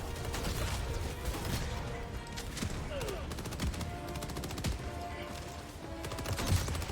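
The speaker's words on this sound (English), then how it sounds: "Oh, this guy brought a mortar." Gunfire and mortar blasts in the video game Helldivers 2 against Automatons, a dense, continuous barrage of rapid shots and booms with crashing impacts. A voice talks underneath throughout.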